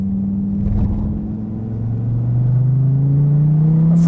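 An SRT Viper GTS engine revs hard and climbs steadily in pitch as it accelerates down the front straight at Laguna Seca, loud and close, with a deep, rising drone and no talk.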